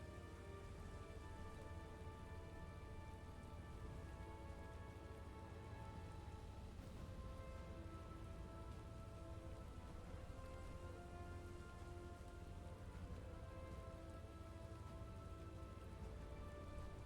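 Steady rain in The First Descendant, a constant hiss of drops on surfaces under sustained tonal music, faint and unbroken throughout.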